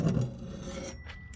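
Brief scraping rub as an Atwood furnace exhaust vent is slid out of an RV's exterior wall, a close, quiet grinding slide lasting about a second.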